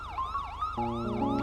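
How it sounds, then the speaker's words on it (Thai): A police car's second siren tone in a modded GTA V game, a loud, close, repeating wail that shifts midway into a steady layered electronic tone. "แล้วก็จะมีเสียงไซเรนนะครับ"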